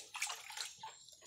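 Rainwater pours from a watering can or hose onto garden plants, a steady close splashing and sloshing spray with no voices.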